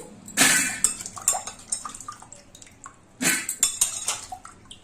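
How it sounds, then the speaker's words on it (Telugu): Water splashing and clattering as vegetables (potatoes) are rinsed in a basin, with irregular bursts of sloshing and light knocks, close by. "అంతా బాగా వాష్ చేసి కడుక్కోండి"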